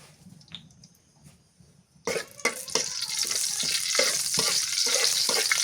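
Whole cumin seeds hit hot mustard oil in a wok after a quiet moment, bursting into a loud steady sizzle broken by quick crackles and stirring scrapes.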